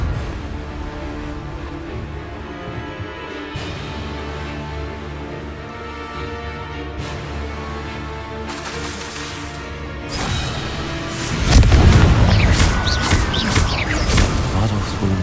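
Confringo blasting spell in Hogwarts Legacy, a sudden loud burst of crashing impacts and booms after a quieter stretch of scattered hits, followed by rumbling debris that keeps ringing out.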